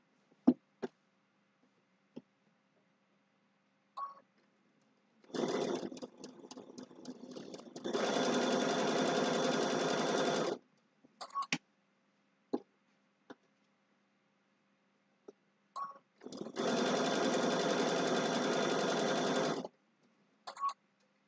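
A sewing machine stitching a fabric shopping bag with a pocket runs in two sustained bursts of several seconds each, separated by quiet pauses with scattered clicks and brief handling noises.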